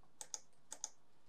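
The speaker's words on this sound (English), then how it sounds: "we'll then hit P on the keyboard." Single keys pressed on a computer keyboard during motion-graphics work in After Effects: four crisp, close taps falling in two quick pairs, with quiet room tone between and no voices.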